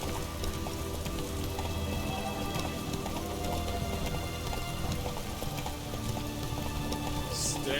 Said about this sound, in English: It's raining, of course it's going to be tough.